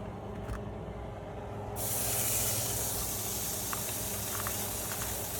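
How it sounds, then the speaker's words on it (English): Bacon frying in a pan for breakfast quesadillas, a steady broadband sizzle that swells louder after a couple of seconds and holds as a continuous close hiss with faint crackles, no talking. "So now I will make bacon."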